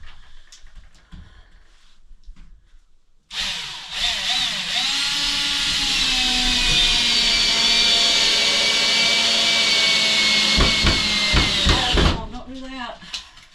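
A power drill fitted with a speed chuck whirs loudly and steadily for several seconds during cabin repair, then spins down, with a few knocks and clatters around it.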